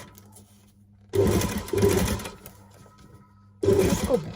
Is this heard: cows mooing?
no